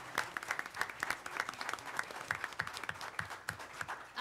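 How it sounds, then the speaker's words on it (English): Applause from the audience at a city commission meeting, with scattered individual claps rising and falling in a light, uneven rhythm at moderate distance throughout. "If you guys don't mind giving them a round of applause for joining us here."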